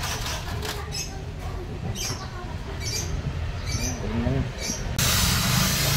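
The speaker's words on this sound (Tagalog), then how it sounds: "kapag in-sprayan ng brake cleaner yan, kusa yan matutuyo" Brake cleaner sprayed onto a car's handbrake lever in a loose, steady hiss that swells louder toward the end, with faint squeaky scraping and clicks underneath.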